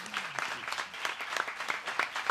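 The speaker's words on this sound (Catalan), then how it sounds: "Hem de fer tres aplaudiments." Applause from a concert audience during a backstage show, a dense wash of clapping at moderate distance, steady throughout with faint voices mixed in.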